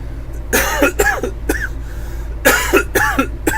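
Several harsh coughs in two bursts, close and loud, with a low hum in the background.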